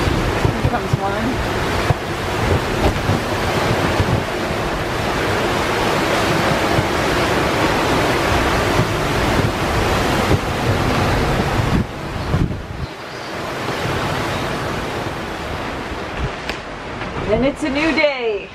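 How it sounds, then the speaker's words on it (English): Big Atlantic Ocean waves surge and crash around a boat at sea amid roaring wind, the rush swelling and easing, with a brief quieter lull near the end. "Big waves."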